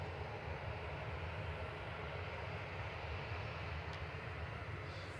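A Jet2 Boeing 737-800 holds on the runway at Manchester Airport, its engines giving a steady, faint, distant roar.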